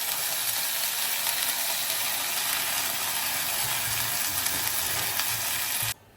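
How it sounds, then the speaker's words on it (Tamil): Food sautés in a little oil in a pan, giving a steady, close hiss of sizzling with faint stirring scrapes underneath that stops abruptly at the end. "இப்போ கொஞ்சமா எண்ணெய் ஊற்றி வச்சு ஒரு வதக்கலாம்."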